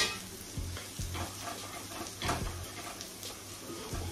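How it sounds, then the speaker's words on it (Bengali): Paneer sizzles and fries in a pan as it is stirred with flour for garlic butter paneer, a steady close hiss broken by several soft scraping strokes of the spatula. "ময়দা দিয়ে এটাকে মিক্স করে নিচ্ছি"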